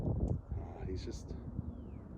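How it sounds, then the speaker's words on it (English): Wind gusting outdoors on a cool day after rain, a low rumbling buffet across the microphone, with a voice talking over it and faint high bird-like chirps. "It's a windy day."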